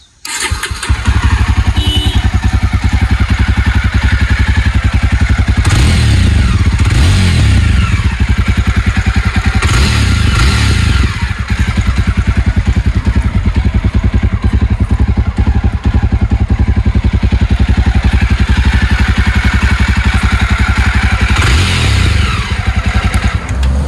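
Jawa Bobber 42 motorcycle engine cranked and started, then running with a steady, noisy idle thump and a couple of throttle blips, close and loud with no talk.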